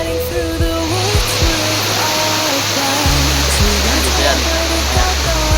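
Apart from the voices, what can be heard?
waterfall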